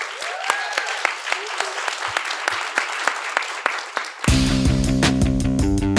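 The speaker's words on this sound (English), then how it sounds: "Can we please have a round of applause for Cleo?" A live podcast audience claps in a short round of applause, sparse hands and individual sharp claps in a small room, before recorded music cuts in loudly and takes over.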